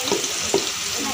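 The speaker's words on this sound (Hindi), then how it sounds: "ये प्याज है जो हमने इसमें ऐड कर दिया। ये आप इसको भूनें" Onions browning in a pan for karhi pakora, a steady sizzle with a couple of soft stirring scrapes, close and fairly quiet, no talking.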